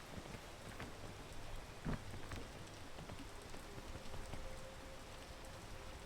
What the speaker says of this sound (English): it starts raining here